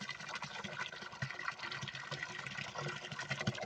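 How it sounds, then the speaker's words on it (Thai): Fresh water rushes steadily into a catfish pond, a continuous soft gushing and splashing at low level. "หลังจากเอาน้ำเก่าออก เสร็จก็ปล่อยน้ำใหม่เข้าไปเลย"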